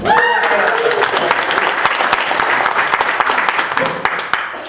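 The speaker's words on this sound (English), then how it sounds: "Give yourself a round of applause." A fair audience at a state fair press event claps in a loud, dense round of applause that runs throughout, with a voice talking over the start.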